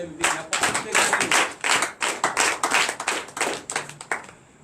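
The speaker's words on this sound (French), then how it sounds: "Que je vous demande d'applaudir très fort." Sustained applause from a congregation at a night prayer and prophecy service, many hands clapping steadily for several seconds with brief swells in intensity.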